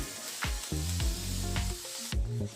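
Maggi noodles frying in a pan as they are stirred, giving a close sizzle with several scraping, clattering strokes of a spoon at irregular intervals and a low background hum.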